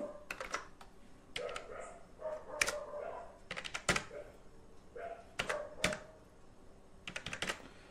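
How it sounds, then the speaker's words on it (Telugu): Computer keyboard keys tapped while entering an admission number on an online university portal, in quick irregular bursts of clicks with short pauses, moderately close and fairly quiet. "మీ అడ్మిషన్ నెంబర్ ఎంటర్ చేసేయండి."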